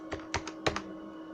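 Quick keystrokes on a computer keyboard, five or six soft close clicks in an uneven burst over about a second.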